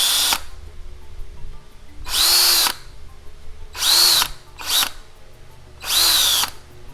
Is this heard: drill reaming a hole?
yes